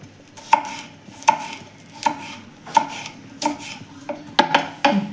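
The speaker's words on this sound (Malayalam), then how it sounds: "അപ്പം നമ്മൾ സവാള അരിഞ്ഞിട്ട് ഇങ്ങനെ കീറിയിട്ട് രണ്ടായിട്ടൊന്ന് കീറിയിട്ട് ചെറുതായിട്ടൊന്ന് അരിയാം" Knife chopping sliced onions on a board, about nine sharp, evenly spaced cuts with a short quick pair near the end, close and clear.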